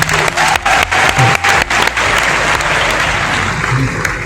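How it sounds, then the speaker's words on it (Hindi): Audience at a Haryanvi comic poetry gathering claps loudly and steadily throughout, a dense sustained applause with a few brief dips, a voice faintly audible beneath. "एक बार आप तालियां दे, मैं शुरू होता हूँ"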